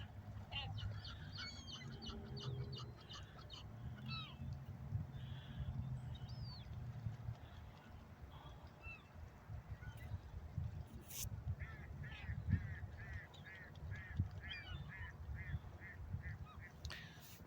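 Geese and ducks honk and quack by a partly frozen river at dusk, repeated calls near and far over a steady low rumble of wind or water, with a voice talking briefly.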